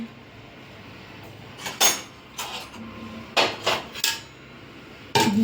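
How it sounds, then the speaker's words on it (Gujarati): Stuffing for chilli fritters made with salt, lemon, turmeric, red chilli and asafoetida is mixed in a bowl: a few scattered metallic clinks and scrapes of a spoon against the dish, close with quiet gaps between. "આપણે બધું મિક્સ કરી દઈશું"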